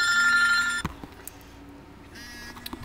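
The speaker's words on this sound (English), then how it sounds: "My phone's going off." A mobile phone rings with a bright electronic tone that sounds steadily for almost a second, cuts off, then resumes briefly near the end. Faint handling knocks fill the gap between the rings.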